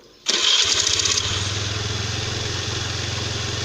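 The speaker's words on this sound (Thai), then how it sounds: "สตาร์ทปุ๊บมาปั๊บนะครับเร่งไม่หยุดไม่ตัดน้ำมันนะครับ" A motorcycle engine cranks and catches, then revs hard and settles into a steady, loud running drone, heard close and alone with no talking.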